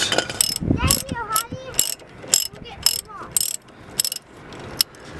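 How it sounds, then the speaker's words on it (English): A ratchet wrench backs bolts out of a 2002 Ford Expedition wheel hub in a hotel parking lot, with sharp bursts of close, loud clicking repeating in quick runs separated by short pauses. "so should be able to just ratchet them out."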